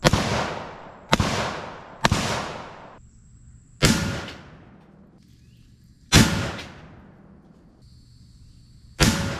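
A Sig Sauer carbine fires 5.56mm 62-grain M855 green tip rounds at a Ferret scout car, with six loud, sharp shots spaced irregularly over about nine seconds, each followed by a long echoing decay outdoors.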